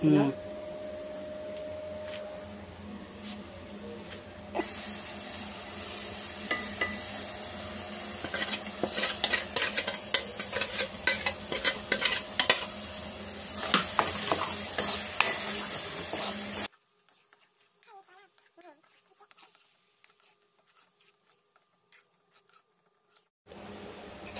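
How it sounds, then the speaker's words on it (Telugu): Tomato paste frying in oil for an egg curry, heard as a close, steady sizzle with many sharp spoon-on-pan scrapes and clatters from stirring, then an abrupt cut to near silence with a faint trace of voice. "టమాటా పేస్ట్ పచ్చివాసన పోయేటట్టు ఫ్రై చేసుకోవాలి"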